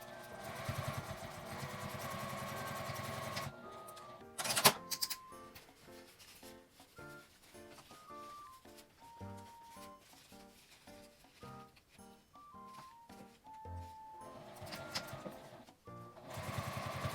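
A sewing machine stitches a small fabric mini box pouch, running in short rapid bursts of mechanical chattering separated by brief pauses, with a steady whirring motor stretch at the start and end, close and clear.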